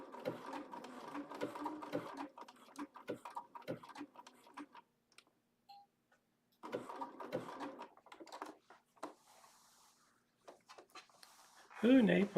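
A Bernina sewing machine stitches down fabric in rapid rhythmic bursts of needle clatter with pauses between runs, close and fairly quiet, ending with a brief voice.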